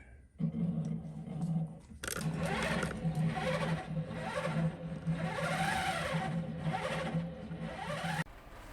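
Handi Quilter longarm quilting machine stitching under Pro-Stitcher control, a brief motor whir, then a sustained rhythmic mechanical stitching hum with repeating swells, close and fairly loud, stopping abruptly.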